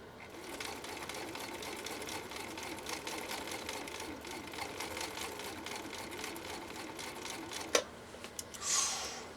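A 1960s Husqvarna Viking 6440 sewing machine runs steadily, sewing a purple decorative stitch from cam A into bubblegum fabric, with a continuous close rapid whir and a brief clack and rustle near the end.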